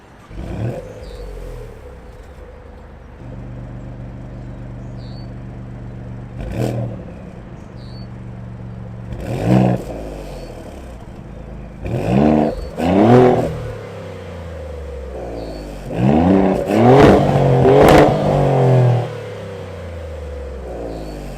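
Quad exhaust of a 2024 Maserati GranTurismo Modena revving from idle, a steady low rumble broken by several sharp blips that build into longer, louder revs toward the end, close and alone.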